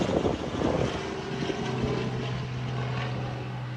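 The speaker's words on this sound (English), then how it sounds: "Oh, it's a helicopter." A helicopter passes overhead outdoors, a steady loud rotor and engine roar with a low droning hum that dominates the scene without speech.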